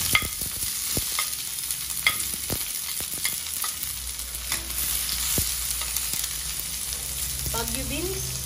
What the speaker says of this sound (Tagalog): Tayo ay magigisa muna ng ating mga gulay